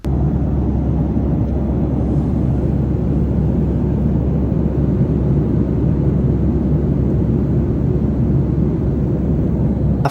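Steady, loud airliner cabin roar during a four-hour flight over the ocean, a dense low rumble and broadband hiss holding constant throughout with no talk.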